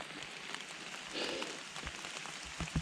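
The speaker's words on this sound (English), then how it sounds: "It's raining. It's been raining all morning" Steady rain falls all morning in the woods during a deer hunt near a creek bottom, a dense continuous patter on leaves and ground, close and even, with a few heavier drops near the end.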